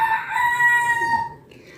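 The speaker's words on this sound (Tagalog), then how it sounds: "May kontrabida talagang manok." Rooster crowing loudly and close by, one long drawn-out crow that fades at the end over faint background noise.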